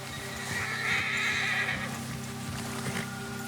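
A spooked horse whinnies loudly in Red Dead Redemption 2, one drawn-out neigh rising and falling over a low ambient hum, with a few soft hoof clops before and after.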